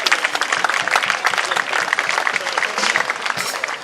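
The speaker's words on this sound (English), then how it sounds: "Can we give them a round of applause for all they have done?" A crowd at an outdoor Juneteenth civic gathering in a cultural garden applauds steadily, dense continuous clapping filling the space at close range throughout.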